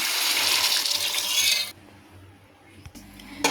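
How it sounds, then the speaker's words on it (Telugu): Water pours steadily into a pot of rice for vegetable biryani with a bright splashing hiss for under two seconds, then stops, leaving quiet kitchen sounds and a small clink. "ఇప్పుడు వాటర్ పోసుకుందాం"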